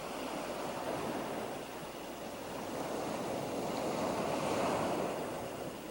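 Surf rolls onto a beach in a steady, full wash of breaking waves mixed with wind buffeting the microphone, continuous and fairly loud, with no voices.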